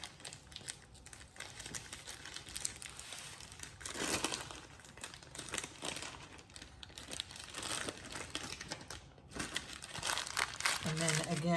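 Parchment paper crinkles and rustles steadily as a hazelnut roulade is rolled up and lifted along, with a continuous papery texture and some louder crumpling bursts throughout.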